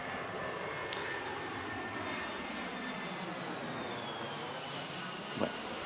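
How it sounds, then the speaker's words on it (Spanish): Airplanes near El Prat de Llobregat pass overhead with a broad, continuous roar of aircraft engines that holds steady and fairly loud throughout, with a couple of faint clicks and no voices. "y escuchar los aviones pasar"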